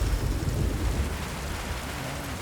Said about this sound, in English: Super rainy, just pouring down thunderstorm.